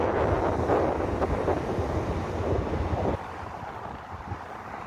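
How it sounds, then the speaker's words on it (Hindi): Wind blows outdoors against a microphone, giving a rough, buffeting rush that is loud at first and then drops to a quieter gust-laden hiss partway through, with no voices. "हवा चल रही है, इट्स क्वाइट चिली।"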